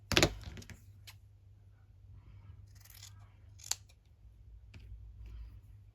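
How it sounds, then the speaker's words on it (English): Scissors snipping through wool and leaves for a handmade craft tag, a loud first cut followed by a few fainter, scattered snips over a low steady hum, with no talking. "We'll need 3. With these scissors."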